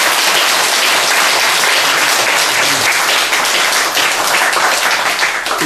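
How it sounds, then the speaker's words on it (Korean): Loud, dense clapping from an audience of monks and Buddhist lay followers at a dharma talk, sustained evenly for several seconds with no talk over it. "박수 한번 쳐주시죠."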